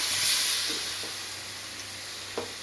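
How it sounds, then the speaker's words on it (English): Coconut milk goes into a pan of frying Thai green curry, a steady loud sizzle and hiss that eases slightly over a couple of seconds, with a few soft stirring knocks. "Get some coconut milk in there."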